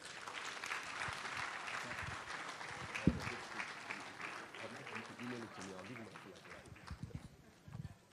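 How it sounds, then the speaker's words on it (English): Audience applause at an awards ceremony honoring a newly installed chair, a sustained patter of clapping throughout with a sharp clap standing out and scattered voices talking beneath it. "Please give him another round of applause."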